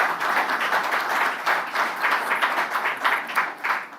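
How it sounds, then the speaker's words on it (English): An audience at a bank branch commissioning ceremony applauds the chairman, a close, full round of rapid clapping from many people, steady throughout with slight swells. "Please give our chairman a round of applause"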